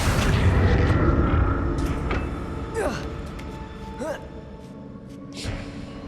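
A Confringo explosive spell in Hogwarts Legacy bursts with a loud opening boom that rumbles off, followed by a few fainter magical whooshes, while a voice speaks over the game sounds.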